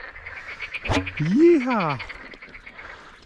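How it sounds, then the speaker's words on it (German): Frogs croak at night beside a river during a carp-fishing trip after a flood. One loud, close, rising-and-falling croak stands out over quieter background calls, and a man exclaims briefly just before it. "Wow, die Frösche geben Vollgas."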